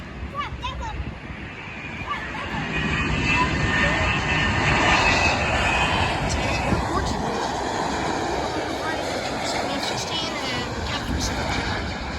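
Jet airliner engines roar steadily at Miami International Airport, a loud broad rumble with rising whine that builds and holds near the runway, with spectators talking over it.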